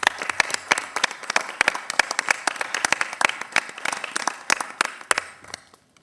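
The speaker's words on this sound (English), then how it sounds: "Please join me in giving them a round of applause." A modest crowd at a county commissioners board meeting claps, with sharp individual hand claps scattered through a fairly sparse round that tapers off and ends.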